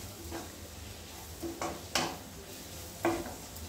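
Spoon stirring pasta masala into pasta in a pan, giving a few scattered scrapes and clinks over a faint low sizzle, with no voices.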